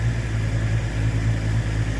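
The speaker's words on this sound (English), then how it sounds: "Rev it up a little." A Ford Mustang engine running steadily with a low, even hum. Throttle is raised slightly for two seconds, and no voices are present.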